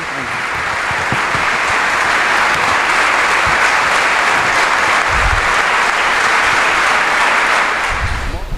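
Loud, dense applause from an audience welcoming a speaker at a church television program, a steady wash of clapping that holds evenly for about eight seconds.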